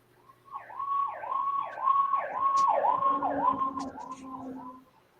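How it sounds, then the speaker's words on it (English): A wailing emergency siren sweeps up and down repeatedly, fairly clear at moderate distance, then fades out near the end. "You always hear sirens going off."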